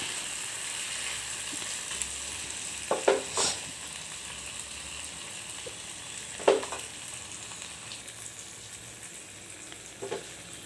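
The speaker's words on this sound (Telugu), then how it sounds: "వంకాయ అన్నీ కలిపి మిక్స్ చేసుకోవాలి మిక్స్ చేసుకొని బాగా కలుపుకోవాలి" Aloo, brinjal, onion, tomato and peas curry being stirred in a hot pan, sizzling steadily with a few sharp scrapes and clinks of the spoon against the pan.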